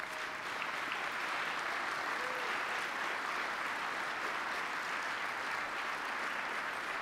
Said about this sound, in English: I'd like everyone to give you all a round of applause.